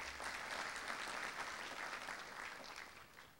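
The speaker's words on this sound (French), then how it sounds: "Je vous prie de l'applaudir." Audience applause at the opening ceremony of a Haitian Model United Nations conference, a dense steady patter of many hands, fairly distant and quiet, tapering off at the end.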